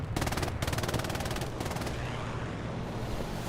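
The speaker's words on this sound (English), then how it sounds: "is an Ally strafing run coming in this time" Aircraft strafing run in a video game: rapid machine-gun bursts, one short then a longer sustained rattle, loud and close, trailing into rumbling battlefield noise.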